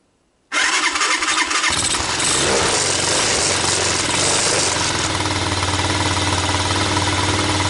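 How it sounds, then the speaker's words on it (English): A Tao Tao ATA200D ATV engine turns over and catches, then settles into a loud, steady idle close by, rumbling evenly without a break. "Well, it's idling."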